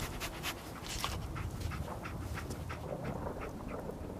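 Dog panting in the video game Fallout 4, with quick repeated breathy puffs over a low game ambience, fairly quiet throughout.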